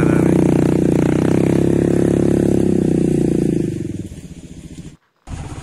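A Royal Enfield Himalayan motorcycle ridden outdoors: its engine drones loudly and steadily, then drops away near the end, breaks off briefly and picks up again.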